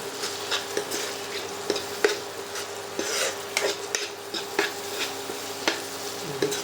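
Ginger garlic paste frying in a pan while a spoon stirs it, a steady sizzle broken by repeated scraping and clinking strokes against the metal throughout, close and moderately loud.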